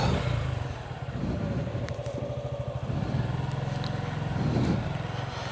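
A motorcycle rides along a road through Sharopar bazaar in Bangladesh, its engine a steady low drone with a pulsing rhythm, swelling slightly near the end, close and continuous with no talking.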